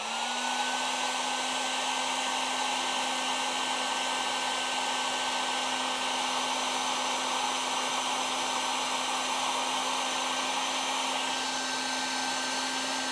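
A heat gun blows a steady, even whine while shrinking heat shrink tubing on wiring for boat navigation lights, close and constant with no pauses.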